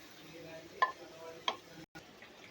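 Cut okra tipped into a pan of potatoes and stirred together, giving a quiet scrape with two soft, distinct clacks of a spoon against the pan over a faint steady background.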